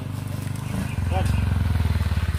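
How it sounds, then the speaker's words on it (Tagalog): A motorcycle engine rumbles nearby with a low, pulsing drone that grows louder partway through, while people talk over it. "Brad, mayroong motor, Brad."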